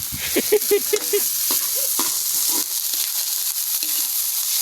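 Meat frying in a kawali pan, a steady loud sizzle running throughout with stirring scrapes and clinks near the start, no voices.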